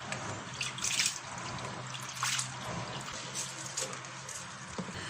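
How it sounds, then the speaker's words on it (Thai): Soaked old glutinous rice being washed in water in a home kitchen: gentle sloshing and trickling with occasional splashes and drips, close by and fairly soft, with no speech. "คราวนี้เราจะไปล้างน้ำสักสองน้ำนะคะ"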